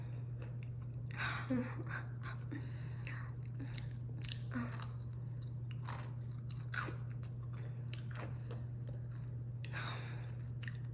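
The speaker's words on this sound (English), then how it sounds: "Probably gonna eat these all before my mom can even have one." Homemade chocolate chip cookies being bitten and chewed up close, with repeated soft crunches over a steady low hum.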